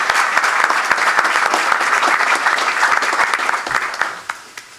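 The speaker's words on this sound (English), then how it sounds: "Let's give them a hearty round of applause." Sustained audience applause at a university press conference announcing Old Dominion joining the Sun Belt Conference, steady dense clapping for about four seconds before tapering off.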